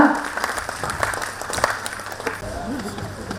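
An audience applauds loudly and steadily after a leather shadow puppet show, a dense wash of clapping with crowd noise mixed in that carries on throughout.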